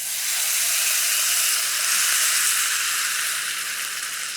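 A loud, steady sizzle and hiss as water is poured onto hot oil tempered with spices and garam masala, continuing without a break and with no voices.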